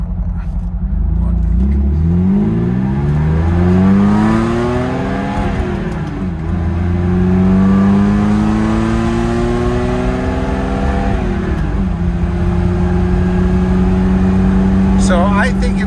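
A 1974 BMW E9 being checked for drivability problems pulls away from a stop sign, its engine revving up loud and close through two clear gear changes, then cruising.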